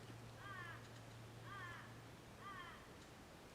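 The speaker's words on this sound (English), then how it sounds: "Sounds like a crow." Crow cawing at dusk in the Australian bush, three evenly spaced harsh calls at a distance against a quiet background hum.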